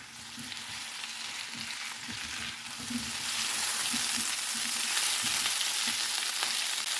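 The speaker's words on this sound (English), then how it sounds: "Add in the cauliflower that I had washed in boiling hot water." Washed cauliflower fries in a pan for a Bengali-style mixed vegetable dish, giving a steady bright sizzle that swells louder midway, with occasional soft clinks and stirring taps underneath.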